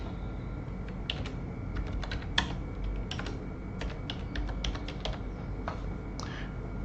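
Typing on a computer keyboard while entering an Excel average formula: a steady patter of light, crisp key clicks in uneven bursts, close and clear over faint background hiss, with no talking.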